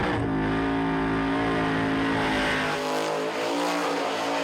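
A roughly 850-horsepower race car engine screams at over 8,000 rpm during a skid event, a loud sustained whine with rising and falling pitch as it passes close by.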